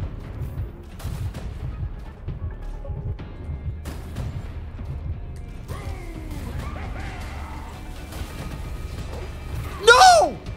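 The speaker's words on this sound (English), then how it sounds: "Throw the grenades." Gunfire, mechanical clatter and grenade explosions in the video game Gunfire Reborn, a busy mix of irregular shots and impacts with a sharp louder burst near the end, mid-level throughout.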